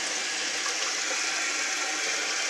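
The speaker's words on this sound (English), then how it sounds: "I'm going to push down on the handle. It's going to raise the flapper. The tank flushes." A toilet flushing as the flapper lifts and the tank empties, a steady loud rush of water that holds its force throughout the short stretch, with no voices.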